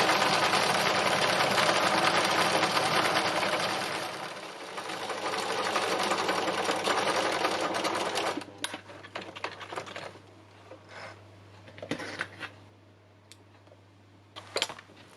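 Sewing machine stitching down an autumn landscape in fabric, running in a loud steady whirring burst for about eight seconds, then stopping and starting in short, irregular spurts with clicks between.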